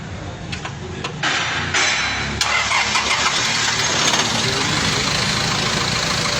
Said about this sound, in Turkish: Şimdi marşa basacağız.